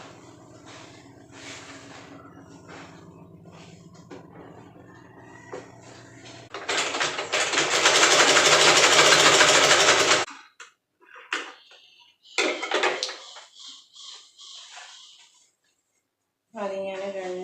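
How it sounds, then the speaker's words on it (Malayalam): A sewing machine stitching the neck of a kurti, its rhythmic mechanical whirr rising to a loud, dense run midway, then stopping and restarting in short bursts, with talk over parts. "ഇനി അടുത്ത നെക്കും കൂടി സ്റ്റിച്ച് ചെയ്യാം."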